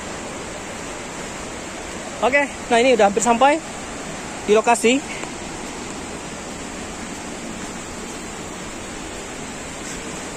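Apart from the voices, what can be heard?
Tarak Pipiah waterfall, West Sumatra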